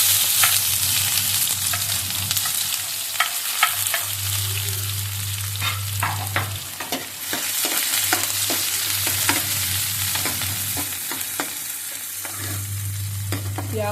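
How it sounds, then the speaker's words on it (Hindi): Onions frying in hot oil with cumin and curry leaves crackle and sizzle continuously up close, with scattered stirring clicks and a steady low hum beneath. "तो अभी पहले प्याज भून लेते हैं"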